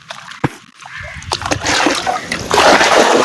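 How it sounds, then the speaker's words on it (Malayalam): Water bailed from a small boat splashes back into the water, a couple of sharp slaps early on followed by growing, sustained sloshing and splattering up close. "വള്ളത്തേലെ കിടക്കുന്ന വെള്ളം വെള്ളത്തിലോട്ട് ഒഴിക്കാനാ പറഞ്ഞത്"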